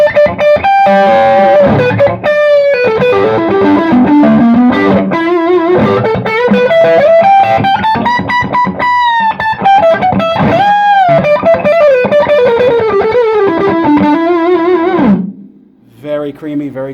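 A distorted electric guitar with single-coil pickups plays a lead through an Orange Dual Terror amp head, with bending, sustained notes and fast runs at steady loudness for about fifteen seconds before the line cuts off.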